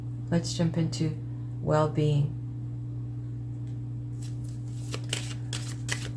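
A tarot card deck is shuffled by hand. A person speaks briefly at first, then a few crisp riffling snaps and slaps of the cards follow, close and fairly quiet.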